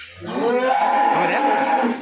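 A cow or calf at a cattle market lets out one long, drawn-out moo, close and loud, with no talking over it.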